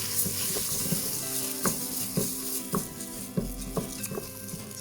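Risotto rice and carrots stirred in a pot over the heat, with a steady sizzle and frying crackle under a series of soft spoon scrapes and taps against the pan, close and moderately quiet.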